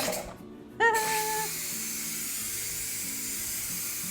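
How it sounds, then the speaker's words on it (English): Steam hisses from the steam release valve on the back of an Instant Pot cooking stuffed pepper soup. A sharp burst gives way to a steady, continuous hiss that goes on unbroken. "So I think all the steam has finally been released."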